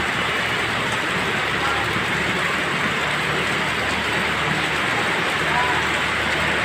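Heavy rain pours nonstop during Typhoon Carina flooding, a dense, steady hiss-and-roar that fills the whole clip evenly without a break.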